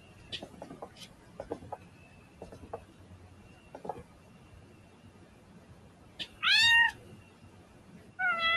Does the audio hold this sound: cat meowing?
yes